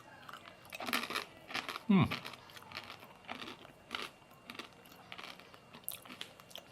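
Crunchy Japanese-style peanuts are eaten close up, giving a run of crisp bites and repeated crunching chews in an irregular rhythm, quiet and unaccompanied by talk.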